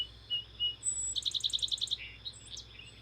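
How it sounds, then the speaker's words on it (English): A song sparrow from Kentucky sings outdoors, a rapid run of bright repeated notes followed by trailing chirps, with other birds calling faintly and a low steady hum underneath. "Here's a song sparrow from Kentucky"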